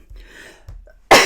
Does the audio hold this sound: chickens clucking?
no